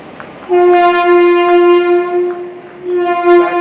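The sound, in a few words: train at platform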